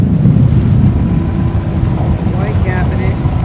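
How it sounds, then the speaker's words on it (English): Steady low wind rumble buffets the microphone throughout, with a hint of water or waves beneath and a faint voice in the background. "it's a little windy today"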